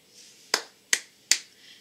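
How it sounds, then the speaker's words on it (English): Three sharp, evenly spaced hand claps ring out close and crisp, each a quick bright crack with a short decay, separated by brief quiet gaps. "To stop the Bobos, we have to clap three times."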